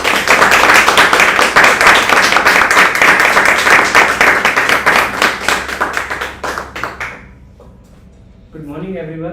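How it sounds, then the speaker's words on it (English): Loud, dense round of applause from a Toastmasters club meeting audience, steady clapping for about seven seconds before thinning out and stopping, followed by a brief voice starting to speak. "So let's start with a huge round of applause."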